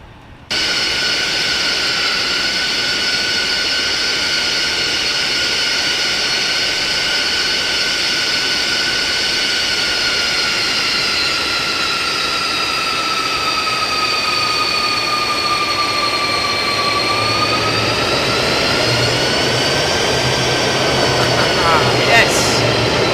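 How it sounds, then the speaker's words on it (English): Felis 747-200 freighter jet engines in the X-Plane flight simulator, a loud sustained whine with steady high tones that dip and then rise again as they spool up, heard from inside the cockpit with a voice speaking briefly. "Oh, you can hear those engines spooling up from in here as well."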